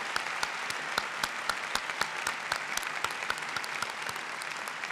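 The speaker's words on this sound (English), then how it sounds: "Another round of applause for Ben and Pat." An indoor audience at a university presidential installation ceremony claps for a couple, steady dense applause with sharp individual claps standing out, moderately distant and without talk.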